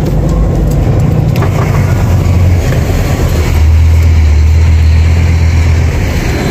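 A truck's engine runs loud and close as the truck is loaded onto a tow truck, a deep steady rumble whose low drone shifts pitch partway through, with no voices.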